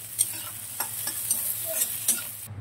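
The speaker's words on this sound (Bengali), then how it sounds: "এবার এটাকে একটু লাল করে ভেজে নেব সবগুলো একসাথে" Chopped chili, onion and garlic frying together in a pan, giving a steady bright sizzle broken by a few soft stirring scrapes. It is close, with no talking.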